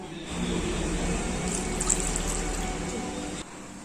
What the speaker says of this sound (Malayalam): ഇനി ഇതിലേക്ക് ഒരു അര ഗ്ലാസ് വെള്ളം കൂടെ ഒഴിച്ച് നമുക്കൊന്ന് വേവിച്ചെടുക്കാം